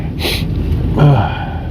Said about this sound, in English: I'm sorry about the sniffling and all that.